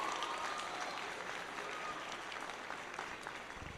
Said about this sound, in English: give a round of applause for every single person in here who got you to this point. Clap for these people.